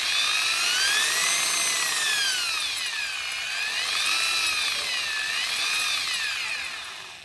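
Angle grinder running at low speed through a 3000-watt dimmer, a steady, close, high-pitched whine that rises and falls slowly in pitch throughout, with no talk.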